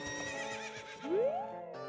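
Horses neigh in The Legend of Zelda: Ocarina of Time, a short synthetic whinny with a rising squeal in its middle, close and clear, with game music underneath.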